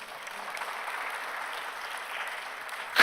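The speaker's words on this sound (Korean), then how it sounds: "박수로 한 영광 돌리겠습니다." A church congregation claps together during a sermon, giving a steady, even wash of applause that holds for a few seconds before a sharp louder burst at the very end.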